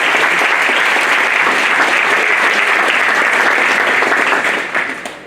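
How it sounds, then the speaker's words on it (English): A graduation audience at an internal medicine residency ceremony gives loud, sustained applause for friends and family, a dense wall of many clapping hands that continues steadily and then begins to taper off at the end. "Let's give our friends and family another round of applause"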